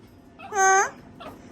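A dog gives a single short whining, whimpering bark with a clear tonal pitch, close by, followed by a softer faint whine; no talking over it.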